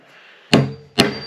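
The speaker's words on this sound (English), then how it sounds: "So we get that little hole punched right through there." A hammer strikes a hole punch through a boonie hat twice in quick succession, two sharp, close knocks about half a second apart.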